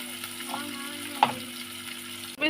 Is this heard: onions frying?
yes